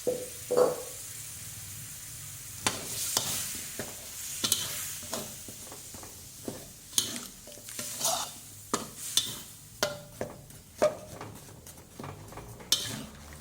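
Water with sugar is stirred in a mortar while making old-style miang kham, giving repeated scraping and clinking strokes of a utensil against the bowl with wet swishing, close and fairly quiet over a steady low background.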